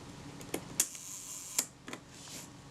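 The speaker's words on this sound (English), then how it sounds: "We'll set it to 1 second. See if it'll fire." Faint mechanical clicks, with two sharper snaps about a second apart, as a Kodak Retina IIIS camera shutter set to 1 second opens and closes, in a quiet room.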